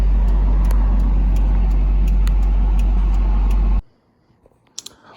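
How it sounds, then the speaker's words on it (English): A rebuilt Toyota 22RE truck engine idles loudly and steadily with a deep constant drone, then cuts off abruptly near the end, leaving near silence and a few faint clicks. "so got the truck running"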